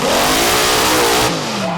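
The Hot Tamale monster truck, damaged and wounded, revs its engine hard during a freestyle run at Charlotte Motor Speedway, a loud, close roar that climbs in pitch, then abruptly drops off and settles lower.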